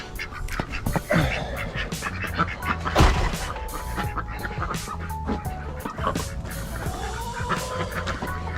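Two female ducks on a farm quack in short, uneven bursts at close range, mixed with a person talking and some background movement.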